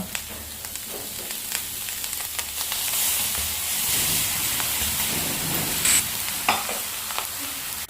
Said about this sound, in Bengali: বানাচ্ছি ফুলকপি দিয়ে ভাজা ভাজা করছি